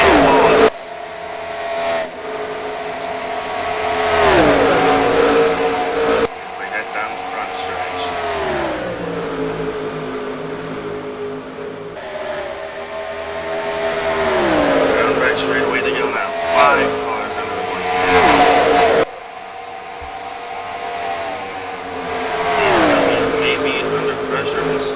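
Several stock cars race in the NASCAR Racing 2003 sim at the Coca-Cola 600, their engines droning loud and close, pitch rising and falling as they pass and accelerate, with a commentator talking over them.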